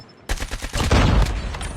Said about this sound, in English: I'm going for the wall bang